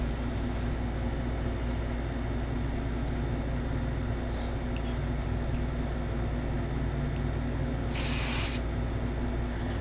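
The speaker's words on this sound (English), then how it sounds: "Then I'm gonna spray the third time." A steady hiss of cleaner sprayed onto a Mini 4WD motor runs throughout, with a sharper, brighter burst near the end, all over a constant low hum.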